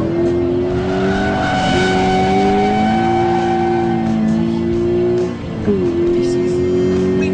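A Toyota GT86 drives on a smooth race circuit. Its engine note is loud and close, rising and dropping steadily with gear changes and revs.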